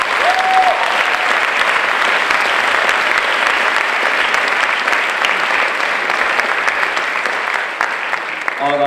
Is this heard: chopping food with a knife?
no